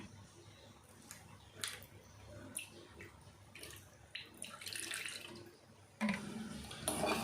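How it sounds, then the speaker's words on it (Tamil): About two tablespoons of water poured into a small bowl of salt while making raw banana chips, heard as a few short, close splashes and trickles. "இதில் கொஞ்சமாக ஒரு 2 டேபிள் ஸ்பூன் அளவுக்கு தண்ணி சேர்த்துக்கலாம்."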